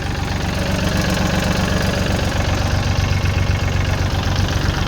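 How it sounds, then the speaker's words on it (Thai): A small three-cylinder diesel engine of a Kubota L3608 tractor idles steadily with a low, even chugging knock, close and continuous throughout. "เครื่องยนต์สามสูบนะคะ"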